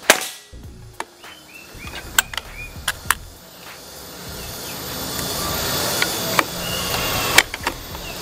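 Several sharp, snappy shots from a DWP Pasopati AK Lipat Mini air rifle crack out at irregular intervals over a faint background hiss, with no talking.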